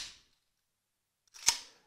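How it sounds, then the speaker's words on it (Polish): An AK-47/AKMS rifle's action is worked and the trigger dry-fired during a safety check, giving a faint click at the start and then one sharp metallic snap near the end, with no talk. "i oddajemy strzał kontrolny w miejscu bezpiecznym"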